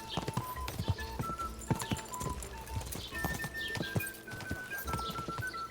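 Horse hooves clip-clop in Kingdom Come Deliverance 2, a steady walking rhythm of sharp hoof strikes close by, alongside bird chirps and outdoor ambience, with no talk.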